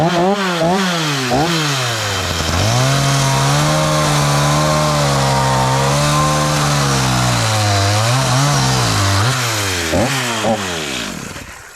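Loud, close chainsaw fitted with a new chain, engine revving up and holding a steady high pitch while cutting, then dropping and revving again, running alone with no talk.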